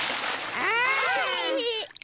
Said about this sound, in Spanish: Papá cerdito salpica a todos de agua.